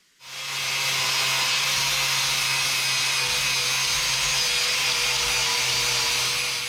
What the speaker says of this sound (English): In the course of doing this project, I'm learning that there is no end to grinding.